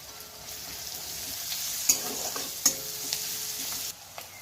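Chopped green chillies fry in a pan with onions, making a soft, steady sizzle broken by a few sharp clinks and scrapes as the mixture is stirred.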